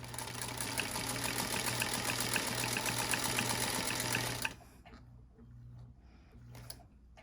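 Embroidery sewing machine back stitching a slip pocket on an in-the-hoop bag, a steady rapid mechanical whirr with a low hum that runs for about four seconds and then stops abruptly, leaving quiet handling noises.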